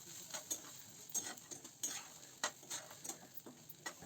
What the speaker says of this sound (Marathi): त्यामधून टाकूया खोबरं आणि सगळं मिक्स करून घेऊया